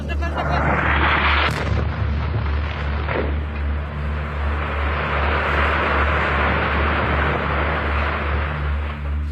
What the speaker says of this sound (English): Moments later, the pilot bombs it.